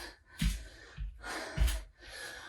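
Heavy, forceful breaths during a high-intensity interval workout in a hot yoga class, three sharp exhale bursts about a second apart followed by rougher panting, close and loud with no talk.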